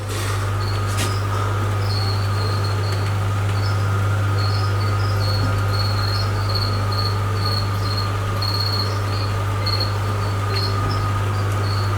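A dense, steady chorus of about 7,500 crickets chirping continuously in a bin at close range, with a constant low hum underneath.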